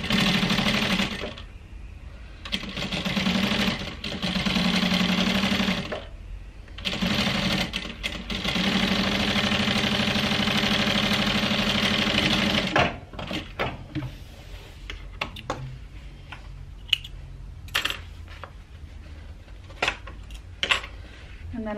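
A sewing machine stitches handbag pattern pieces together at a 3/8 inch seam allowance, running in fast whirring bursts broken by short stops for most of the clip, followed by scattered clicks and handling noises, close by.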